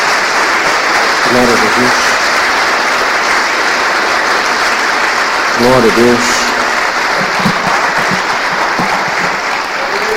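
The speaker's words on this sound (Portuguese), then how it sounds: "Dê uma salva de palmas a Jesus." A church congregation claps steadily in broadband applause throughout, while a voice calls out praise over it and the clapping carries on beneath his words.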